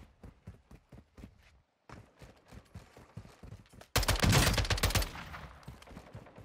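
SMG gunfire in Warzone 2, with rapid repeated shots in a quick rhythm, a short pause, more bursts, then a loud dense burst near the middle before it thins out again; no talking over it.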